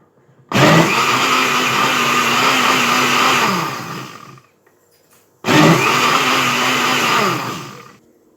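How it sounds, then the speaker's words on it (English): An electric blender whirs loudly as it purees a fish stew base of onions and scotch bonnet peppers for tilapia stew. It runs in two long bursts of about four and three seconds with a brief silence between them. "I'm going to close it and I'm going to blend"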